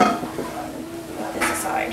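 A spoon scraping and clinking around a pot of crab noodle soup, close and steady for a couple of seconds with a soft simmering hiss underneath.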